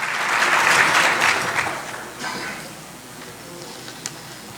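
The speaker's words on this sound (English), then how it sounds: "Let's give her a big round of applause." A crowd at a South Florida Muslim organizations' gathering claps for a woman's final remarks, loud at first, then thinning and fading to scattered claps.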